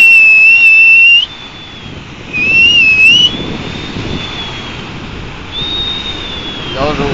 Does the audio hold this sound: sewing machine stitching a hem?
no